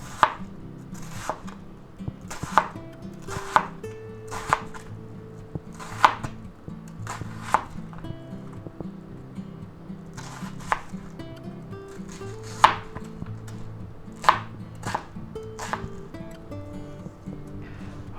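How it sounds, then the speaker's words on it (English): A knife slices vegetables on a cutting board for chicken chop suey, with sharp, evenly spaced chops landing about once a second, close and distinct over a low background hum. "And we'll go ahead and slice these up."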